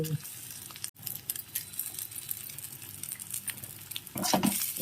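Cooked rice tipped into a pan of cooked milk-shark liver and stirred, giving a low continuous sizzle with scattered scraping and clinking of the spoon against the pan, moderately quiet, with a louder scrape near the end.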